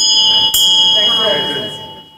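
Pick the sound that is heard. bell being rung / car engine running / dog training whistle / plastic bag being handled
bell being rung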